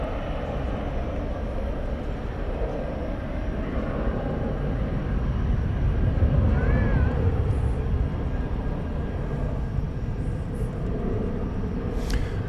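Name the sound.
American Airlines Airbus A320 arriving at DFW airport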